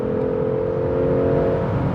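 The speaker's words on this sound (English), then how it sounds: "let me floor the throttle to test out the 440" A 2023 Range Rover Sport SUV with a 440-horsepower engine held at full throttle on a highway, giving a steady, loud, sustained engine drone with road roar underneath and no talking.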